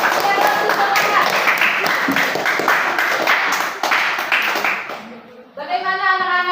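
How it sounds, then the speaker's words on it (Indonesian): Children in a classroom burst into lively clapping for a winning group, loud and close with bright, brisk hand claps and a voice, before the clapping breaks off and singing-like voices follow. "Ya, tepuk tangan yang meriah."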